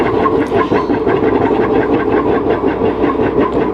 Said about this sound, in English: I hear my forge sputtering away there